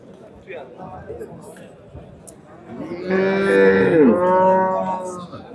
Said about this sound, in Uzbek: Qizil eston sigir.